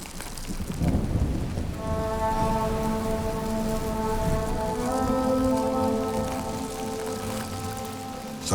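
Heavy rain pours steadily onto surfaces during a thunderstorm, with a deep rumble of thunder swelling and rolling beneath the downpour; a low sustained tone also hums through the scene.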